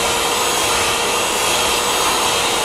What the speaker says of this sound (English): I'm gonna put a blow dryer at my roots and stretch my hair.